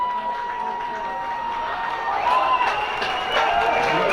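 Crowd cheering at a high school varsity football game, Lake Orion versus West Bloomfield, a steady wash of distant voices and whistling that swells louder partway through.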